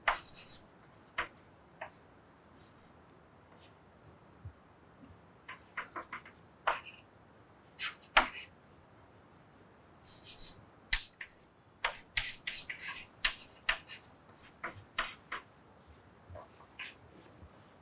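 Chalk or marker strokes from a lecturer writing quantum algorithm equations on a board, bursts of short scratchy strokes separated by pauses, fairly close and with no talk over them.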